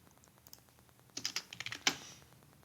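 Short burst of computer keyboard typing as a brand name is entered into a search box, about half a dozen crisp close keystrokes ending in a louder final tap, no talking.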